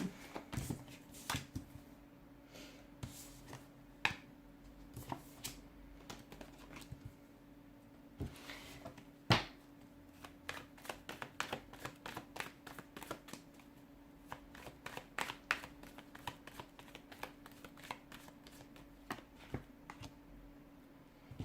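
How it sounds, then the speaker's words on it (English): Tarot cards are shuffled again and again up close, crisp riffles and soft slaps in uneven bursts over a faint steady hum. "give the cards a shuffle and begin"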